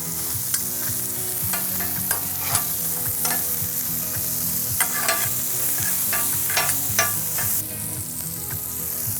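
Burgers searing in a hot pan, a continuous loud sizzle and crackle with scattered pops and spatters, no talking.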